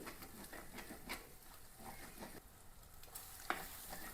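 Spice paste fries in oil for a koori fish curry: a faint, soft crackle with light stirring scrapes and small irregular pops.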